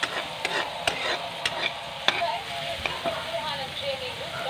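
Garlic frying toward golden brown in a pan, with a steady hiss and sizzle plus sharp clacks of a utensil stirring at irregular intervals, close and moderately loud.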